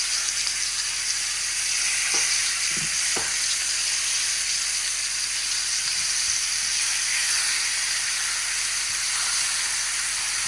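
Butter sizzling in a hot pan alongside steak, a loud continuous hiss and spatter close up with a couple of brief knocks, no voices.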